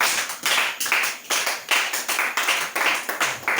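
A church congregation at an evening prayer service claps in a steady, even rhythm, loud and close, with each clap sharp and crisp and no voices heard.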